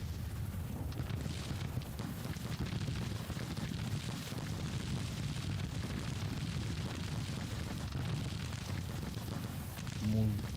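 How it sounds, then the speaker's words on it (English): Distant artillery bombardment in the Civil War strategy game Grand Tactician: The Civil War, a continuous low rumbling roar of booms blending into a dense wash, steady throughout with a slightly louder swell at the end. "Meanwhile, in the north, artillery continues to pound away."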